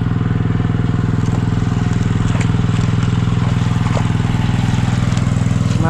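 A small Robin engine running a water pump, loud and steady nearby with a rapid, even chugging rhythm, no voices over it.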